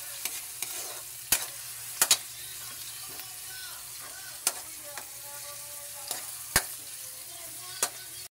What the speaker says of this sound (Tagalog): Ginisa ko. Sama-sama na siya. Sili, bawang, sibuyas at luya.